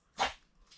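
A single short dog bark, somewhat distant and moderately quiet, with a faint trailing sound afterward and no talking.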